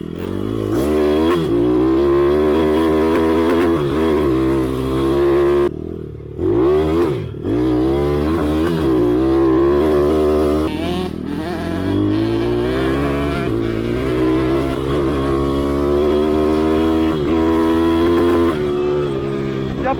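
A small motorcycle engine drones loudly and continuously while being ridden, its pitch rising and falling with throttle changes and a brief dip partway through, with riding noise throughout.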